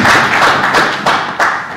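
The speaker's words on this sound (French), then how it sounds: "je vous demande encore une fois humblement d'applaudir Olivier et tous les membres de l'association Kébéka" At a book dedication ceremony for an encyclopedia of Mancagne culture, an audience gives a brief, close burst of applause with a few distinct loud claps and thuds that fade quickly.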